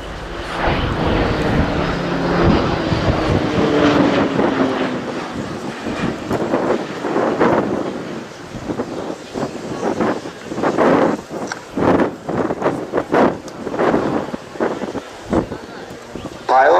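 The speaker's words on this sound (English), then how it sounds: "As the pair of Orlik is coming." A pair of Orlik propeller aerobatic aircraft passes at the RIAT 2016 air show, a steady engine drone rising and fading through gusty wind noise while a commentator talks over it.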